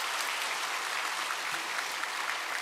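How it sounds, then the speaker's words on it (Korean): A church congregation claps in encouragement during a Sunday worship service, a dense, steady wash of many hands filling the room for a few seconds, loud and unbroken with no voices over it. "우리 격려의 박수 한번 하겠습니다."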